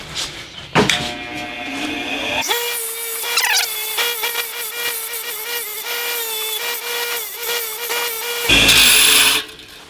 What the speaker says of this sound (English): I'm going to wire brush this, wire brush some of the paint off of where I'm going to be welding